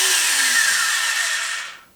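Triton dowelling machine running with a high, drill-like whine that holds steady and then spins down to silence, close and loud with no talking.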